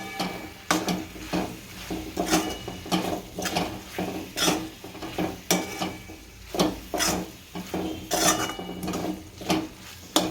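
Green onion leaves are sautéed in a pan, with regular metallic scrapes and clinks of a spoon over a steady sizzle, close and fairly loud.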